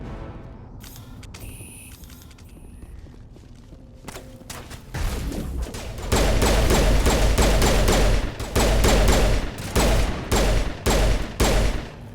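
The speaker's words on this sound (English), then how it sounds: "I shoot an Ash" Rapid bursts of gunfire in the Mass Effect video game, loud and dense from about five seconds on, with repeated sharp shots after a quieter stretch of game sounds at the start.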